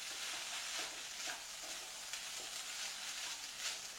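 Egg stir-fried in a pan for Indomie goreng gives a steady loud sizzle with scraping stirring strokes throughout, heard alone.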